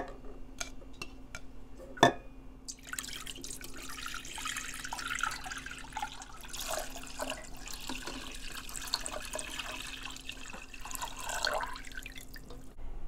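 Cold water runs from a kitchen tap into a saucepan holding eggs, a steady splashing stream after a few sharp drips and clinks at the start, close by with no talking.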